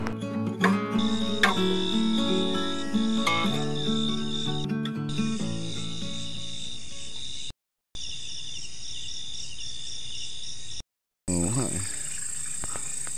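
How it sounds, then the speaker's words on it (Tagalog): At night on a cross-country mountain bike trail, insects and small animals keep up a steady, shrill chirping that carries through the whole stretch and stands alone once the earlier sounds fade. "Kumukumpas ang tunog ng mga insekto at maliliit na hayop na nabubuhay sa ganitong oras sa paligid."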